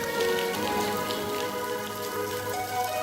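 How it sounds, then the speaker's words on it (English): Steady patter of water dripping and splashing all around inside Manjanggul lava cave in South Korea, a dense, continuous wet drizzle falling from the cave ceiling, with no voices. "Inside, everything was wet, varying from a light drizzle off the ceiling to a real downpour."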